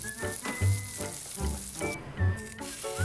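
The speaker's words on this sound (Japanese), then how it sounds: "卵焼きを焼いたフライパンで朝ごはんのフレンチトーストも焼いちゃいます" Egg-soaked French toast frying in butter in a pan that just cooked rolled omelette, a continuous close sizzle with occasional low bumps and clatter from handling, with no talking.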